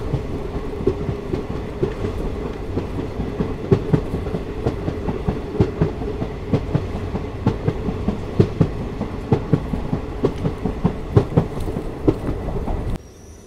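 Bengaluru to Talguppa passenger train rolling along the rails, a steady rumble punctuated by regular clickety-clack wheel beats over rail joints, heard from inside the carriage, ending abruptly near the close.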